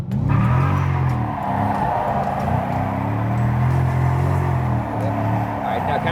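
A car engine revs and surges continuously while drifting in tight controlled donuts, a steady loud drone with throttle swells, heard up close.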